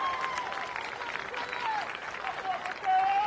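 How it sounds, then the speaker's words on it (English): A stadium crowd at a high school football game applauds the homecoming court with steady, dense clapping and cheering that holds throughout and swells slightly at the end. "Please give one more round of applause for the entire homecoming court."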